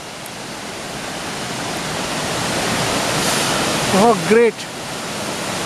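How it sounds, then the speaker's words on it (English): Rushing water of the Triberg Waterfalls in Germany's Black Forest roars as a broad, steady wash that swells slightly as it nears, and a brief spoken exclamation rises over it toward the end. "we are approaching a point which is very near to the waterfall"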